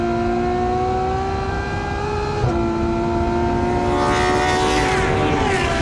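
A Ferrari F12 Berlinetta's 730-horsepower engine, revving toward 8,500 rpm with driving aids off, howls loud and close, climbing steadily, dropping briefly at a gear change, then rising again.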